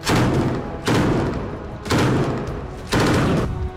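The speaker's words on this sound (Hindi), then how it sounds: "गाजा में रह रहकर धमाके हो रहे हैं।" Explosions in Gaza: four heavy, booming thuds land about a second apart, each one loud and abrupt, then fading quickly.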